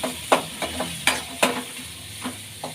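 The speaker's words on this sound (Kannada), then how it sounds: "ಈಗ ಎಣ್ಣೆ ಕಾಯ್ದಿದೆ, ಈರುಳ್ಳಿ ಹಾಕ್ಕೊಳ್ಳೋಣ. ಈರುಳ್ಳಿನ ಫ್ರೈ ಮಾಡ್ಕೊಳ್ಳೋಣ." Onions fry in hot oil in a pan, with a soft sizzle broken by several sharp clinks and scrapes of a utensil against the pan, close and quiet with no talking.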